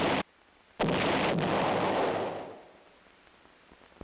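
A single heavy field artillery gun fires with a sharp, loud boom that rolls out into a long fading rumble, alone in the open.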